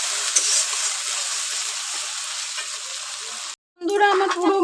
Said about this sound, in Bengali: সেই আদা রসুন বাটাটা দিয়ে দেব। দিয়ে খুব ভালোভাবে ভেজে নেব